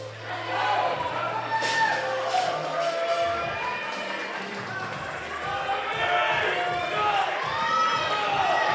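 At a fitness competition qualifier, a lively crowd cheers and shouts continuously, with voices and whoops rising in waves and occasional thuds from equipment.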